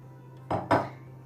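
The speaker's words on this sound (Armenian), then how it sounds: "Շաքարավազն ու ալյուրը խառնելուց հետո վրան ավելացնում ենք 2 ձվի դեղնոցը։" Egg yolks being stirred into sugar and flour in a bowl for eclair pastry cream, heard as two short scraping clinks of a utensil against the bowl over a low steady hum.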